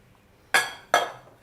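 A metal spoon strikes a pan twice in quick succession while chopped fenugreek is stirred into gatte, each one a sharp, close metallic clink that rings briefly.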